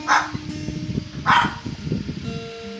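A dog barks twice, loud and close, with a gap between barks, over low murmuring background noise at a casual drinking gathering.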